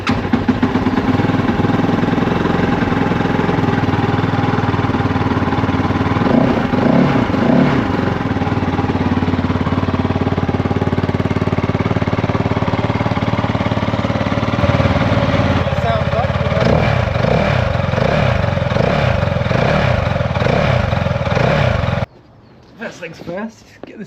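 A Kove 450 Rally motorcycle with its stock exhaust starts from cold and idles, its steady engine drone loud and continuous and shifting in rhythm partway through before cutting off near the end.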